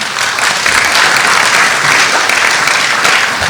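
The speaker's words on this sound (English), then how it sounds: "And I like that applause" Loud, dense applause from a crowd fills the room continuously and evenly for a few seconds, with no voices over it.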